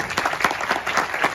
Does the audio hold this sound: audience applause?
yes